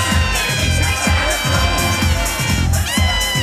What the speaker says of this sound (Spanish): Despidámoslas con fuertes aplausos a Arlene Maribel Salazar Velázquez